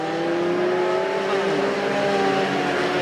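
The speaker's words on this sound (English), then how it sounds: "here comes Chris Martin, the Hot Wheels car, trying to take that spot away" Mini stock race cars roar around a figure-8 track during a night main event at Perris Auto Speedway, a continuous loud engine drone with shifting revving tones as several cars race close together.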